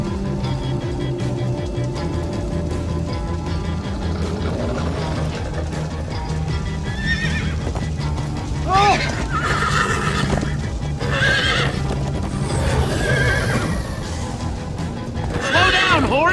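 Horse neighs and clip-clopping hooves in Minecraft: Story Mode, several whinnies rising over a steady game soundtrack and gallop rhythm, fairly loud throughout the ride.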